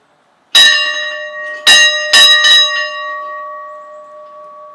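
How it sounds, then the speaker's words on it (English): A school bell fitted with an exotic wood handle is struck three times in quick succession, each ring bright and loud with clear metallic overtones, then left to decay in a long sustained hum. "School bell test."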